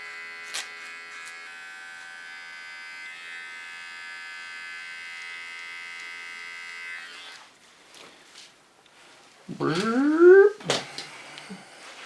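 An electric hair clipper trimming the neckline of a short asymmetrical pixie cut, giving a steady close buzz for several seconds before cutting out, followed by brief handling noises and a louder shifting hum.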